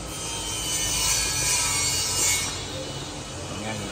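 Steady close scraping and grinding from loosening a bolt on a motorcycle rear shock while swapping the stock rubber bushing for a YSS one, a continuous rasp that runs through the whole moment.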